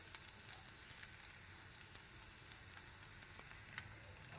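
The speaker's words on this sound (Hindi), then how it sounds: "से गर्म हो गया है, तो सबसे पहले हम यहाँ डाल देते हैं हरी मिर्च। हल्की सी भून जाएगी" Green chilies, chopped ginger and garlic sizzle in hot oil, a steady bright crackling hiss with small scattered pops, fairly close and soft, with no talk over it.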